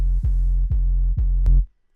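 Four heavy, distorted electronic kick hits at a steady spacing, booming and saturated, the last one louder before it cuts off into silence.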